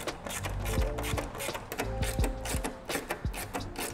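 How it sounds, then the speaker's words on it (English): Ratchet wrench tightening the mounting bolts and nuts of a large front basket on an electric bike, an 8mm nut turned with a 3mm hex on top, giving repeated close clicking and rubbing strokes in short bursts. "I'm using a ratchet."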